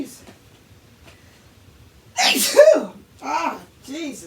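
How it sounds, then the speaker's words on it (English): A man sneezes once, loud and close, after a quiet stretch with faint background sounds, followed by a couple of short spoken bursts. "I gotta sneeze."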